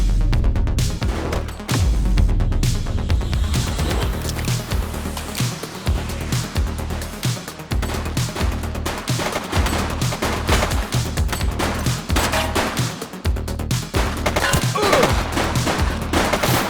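Sustained gunfire in a gang shootout in The Precinct, with rapid bursts and repeated shots crackling continuously over a heavy, booming low backdrop, loud and close throughout.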